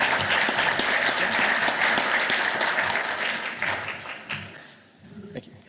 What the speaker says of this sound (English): So please, a round of applause for Dr.